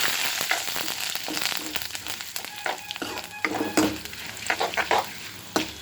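Roasted cashews and curry leaves sizzle and crackle in a pan over low heat, with close, uneven pops and spatters and a few scraping stirs throughout, no voices.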